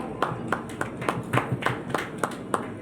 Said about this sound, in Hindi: जोरदार तालियां पूरी सभा के लिए।